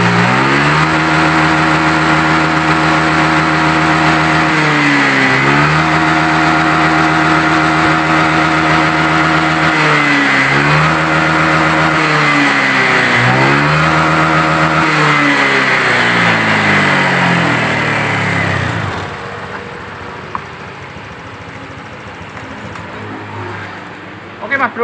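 Honda Vario 150 scooter engine, faulty and sputtering, held at full throttle: a loud sustained rev with several dips and recoveries before dropping back to idle, close up.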